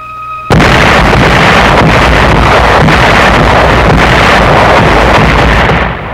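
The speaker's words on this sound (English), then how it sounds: "All along the front, the German-dominated heights were under the muzzles of Allied guns." Allied artillery guns firing on the 1944 front near Rome: a sudden loud onset into a sustained, roaring rumble of heavy gunfire and blasts that holds steady for several seconds before tapering slightly.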